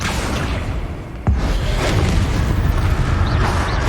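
A Confringo fire spell bursts in Hogwarts Legacy with a sharp, loud boom and whoosh, followed by a sustained rumbling roar of flames and debris, no voices.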